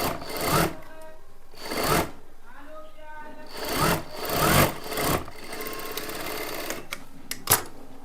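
A sewing machine stitches a hook strip onto a simple blouse in loud, repeated short bursts, each run lasting about half a second with pauses and light handling sounds between.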